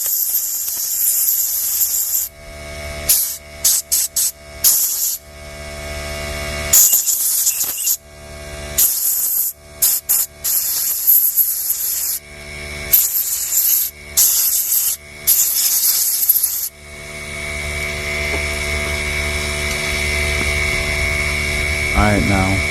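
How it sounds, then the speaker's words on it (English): Air compressor nozzle blasting bursts of air through the jets of a 2-stroke carburetor, loud hissing blasts in rapid on-off pulses, then a long continuous blow at the end. "I always like to hit it with the air compressor."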